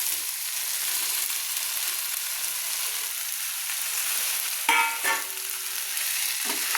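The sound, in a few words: stirring fried prawns into potol and potato curry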